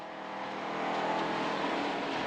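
A rally car driving flat out on its first competition stage, engine note swelling and holding steady as it accelerates toward the finish, close and continuous with no voices.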